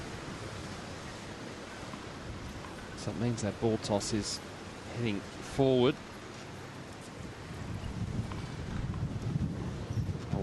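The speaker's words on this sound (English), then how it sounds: "The wind really starting to gust up now." Wind gusting hard across an outdoor tennis court at a Hobart women's match, roaring broadband noise buffeting the microphone, with a commentator speaking briefly over it.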